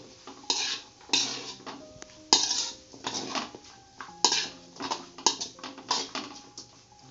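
Fried chicken 65 being stirred into noodles in a pan, with repeated metal utensil scrapes and clanks against the pan in uneven bursts over a soft background sizzle, close and fairly loud.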